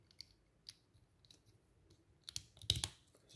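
Small LEGO Classic pieces click and snap together in a quiet room, a few faint scattered ticks building to a denser cluster of clicks near the end.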